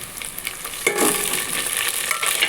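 Onion, green and dried red chillies, curry leaves and garlic fry in a pan, with a sudden loud sizzle that settles into steady close crackling and spitting.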